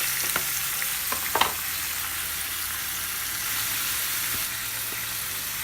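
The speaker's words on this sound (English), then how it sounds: "we'll go ahead and put our shrimp in. And we'll just do a little saute on that." Shrimp sautéing in sesame seed oil, a steady, close frying sizzle with a few stirring scrapes and clinks early on, continuing alone without talk.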